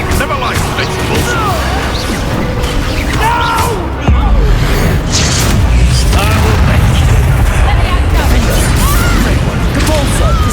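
Bombarda spell explosions in the Hogwarts Legacy video game: loud, repeated booming blasts and crashing impacts over a dense, continuous bed of game effects and music.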